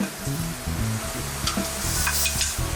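Butter sizzles and crackles in a skillet, a steady close frying hiss with a few scraping stir sounds, alongside low tonal background hum and no talk.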